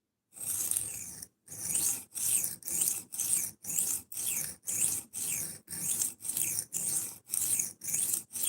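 A knife blade is worked by hand across a coarse 120 grit abrasive in steady back-and-forth strokes, each a loud, close raspy scrape separated by brief pauses, with a longer first pass followed by about a dozen rhythmic strokes.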